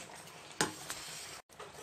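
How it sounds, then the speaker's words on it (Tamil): Sambar powder gets stirred into simmering sambar, a faint, soft scrape and swish of a spoon in the pot with a couple of brief louder strokes and a short pause. "இதுதான் சாம்பார் பொடி, இதை அப்படியே சேர்க்க போகிறோம். சேர்த்துட்டு நல்லா கிண்டி விடணும்,"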